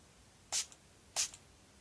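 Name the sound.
face setting spray being sprayed on face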